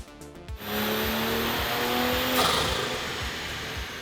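A 2020 Toyota Supra running E60 ethanol blend on a dyno, its engine climbing in a loud, sustained pull that rises steadily in pitch, heard close with a brief shift-like change midway.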